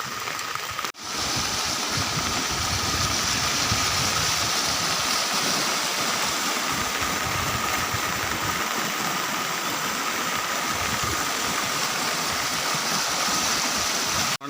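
Floodwater rushes through the streets of Khokharda village in Vanthali taluka after heavy rain, a loud, unbroken roar of flowing water that fills the whole stretch.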